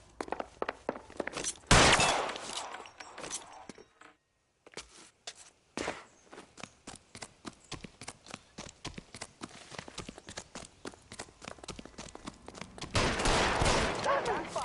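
Rapid gunfire in LA Noire, a long run of sharp shots that is dense at the start and again at the end, with a brief pause in between and occasional voices.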